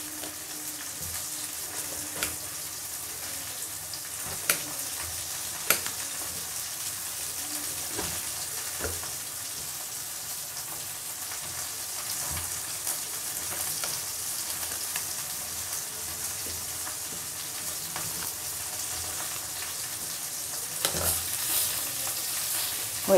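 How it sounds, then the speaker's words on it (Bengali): Onion stalks fry in a pan with a continuous moderate sizzle, punctuated by occasional clicks and scrapes of a utensil stirring, and no voices. "পেঁয়াজ কলিটা ভাজা হয়ে গেছে, এটাকে নামিয়ে নিচ্ছি।"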